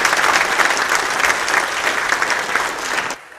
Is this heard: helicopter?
no